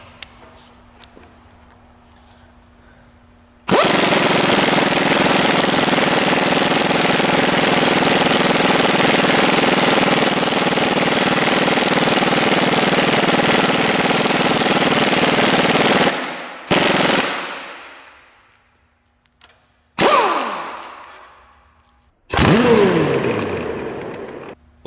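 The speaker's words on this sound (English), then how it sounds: "The compressor may kick on." A garage air compressor starts abruptly and roars loud and steady for about twelve seconds, then cuts off and restarts in a few shorter surging bursts, close by with no talk.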